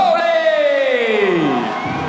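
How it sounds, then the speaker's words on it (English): A loud crowd roars and cheers in a big arena for a British boxer at a World Series of Boxing match, with a descending tonal sweep riding over the noise. "cheer of the night, no surprise for the hometown hero, the local boy, Lawrence Akoli"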